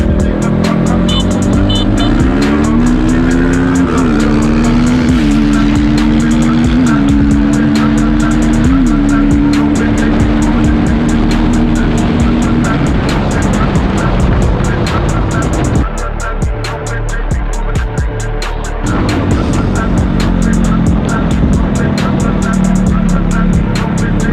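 Kovi Pro 300 motorcycles, one with a big-bore kit and porting, race hard with engines revving and rising in pitch and rear wheels spinning. The sound is loud and close, with a shout or two of talk over it.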